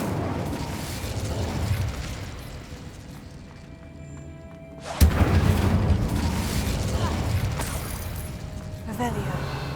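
An Incendio fire spell is cast in Hogwarts Legacy, a sudden sharp blast mid-clip over ambient rumble, followed by sustained loud fiery noise.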